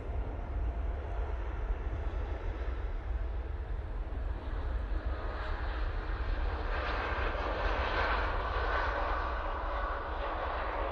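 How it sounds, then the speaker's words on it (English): A TUI Boeing 787-8 Dreamliner jet departs Manchester Airport for Malaga, its engines giving a steady, heavy roar that brightens and swells toward the end, heard from a distance without talk. "there goes the TUI 787-8 Dreamliner off to Malaga"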